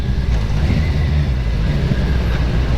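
A 2013 Kawasaki Z1000 motorcycle engine downshifting with light engine braking, a steady low droning exhaust hum at moderate volume, continuous with no throttle blips.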